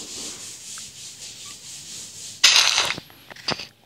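Blocks being broken in the Minecraft video game to collect sticks: a steady hiss of rubbing and scraping, then a louder, rougher burst of crunching breakage with a few short follow-up knocks, heard alone without any talk.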